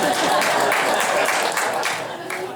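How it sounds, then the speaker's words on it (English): An audience at a live comedy show applauds in a dense, sustained burst of clapping that fills the room and then gradually starts to fade. "Clap if you like punk rock music and you have a job."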